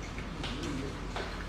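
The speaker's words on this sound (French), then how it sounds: "Les oiseaux chantent ce matin." Birds call in the early morning, with a soft dove-like coo and a few faint chirps over a quiet outdoor background and no talking.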